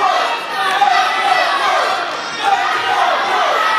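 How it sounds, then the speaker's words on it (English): A crowd at a live pro wrestling event cheers loudly and steadily for a wrestler, with a dense wash of shouts and voices throughout and rising surges of noise. "Crowd cheering for Pope"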